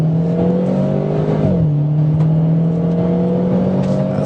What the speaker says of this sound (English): the car fires off